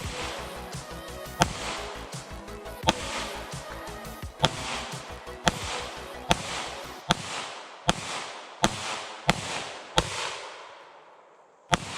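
Fireworks are shot off in a rapid series of sharp bangs, roughly a dozen loud close cracks spaced about a second apart, each followed by crackling and a fading tail, with no talking.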